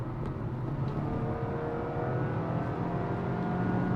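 A 2023 Honda Elevate car engine hums steadily and builds as it accelerates, a continuous motor drone with no one speaking.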